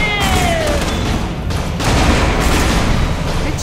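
Gunfire and booming blasts in the video game Borderlands: The Pre-Sequel, a loud, dense barrage of shots and explosions that continues through the whole stretch with almost no pause.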